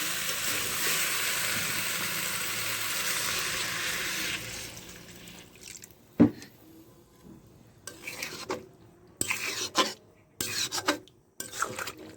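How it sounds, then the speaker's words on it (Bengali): Water poured into a pan of sautéed potato, amaranth stems and greens with raw banana, a loud rushing hiss that fades, followed by scattered scrapes and clinks of stirring. "দেখেন কষানো হয়ে গেছে, এবার আমি জল দেবো।"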